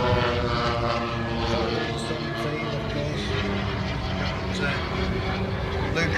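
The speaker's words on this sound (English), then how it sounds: "Most unusual aircraft, and expertly displayed by Luke." A propeller-driven aircraft of an unusual type performing an airshow display at Elvington, its steady engine drone holding at an even level throughout, with a voice talking over it the whole time.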